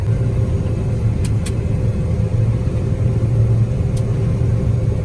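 A combine harvester drives back across a grain field, its engine giving a steady, loud low rumble that holds constant throughout, with a few faint high clicks on top.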